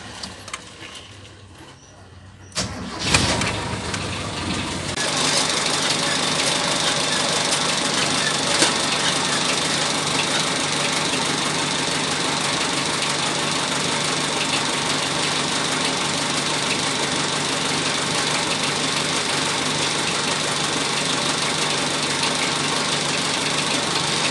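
An engine cranks and catches after a few seconds, then settles into a steady, loud idle with a mechanical rattle that runs on alone to the end.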